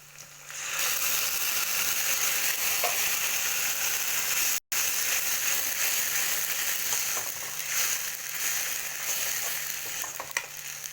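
Chopped tomato frying in hot oil in a pan for a dried-fish curry, a steady, dense sizzle that runs loud and even throughout, broken only by a very brief dropout midway.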